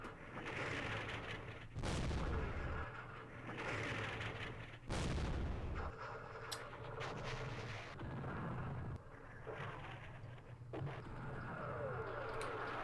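French artillery in the Vietnam wargame Campaign Series Vietnam booms in several heavy, rolling blasts spaced a few seconds apart, with rumbling between the impacts.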